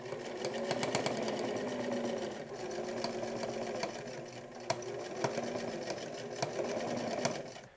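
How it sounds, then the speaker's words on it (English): A sewing machine runs steadily while stitching jacket lining pieces together, a continuous close whirring hum with the needle's rapid rhythmic ticking and a few sharper clicks throughout. "I now just sew all the bits together for the lining"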